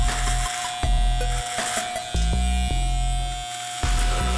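Electric razor shaving a man's face, a close, loud steady buzzing hum that repeatedly dips and returns as the blade moves over the skin, with no talking.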